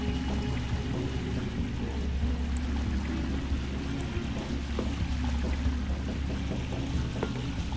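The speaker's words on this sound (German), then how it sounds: "hier fließt das Wasser runter" Water runs steadily downward in the video game Estranged: Act 1, a continuous rushing pour with a low rumble that holds evenly throughout, close and without talk.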